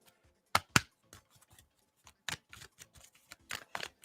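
Tarot cards are shuffled by hand, giving sharp papery snaps and soft taps in irregular bursts, close and fairly quiet.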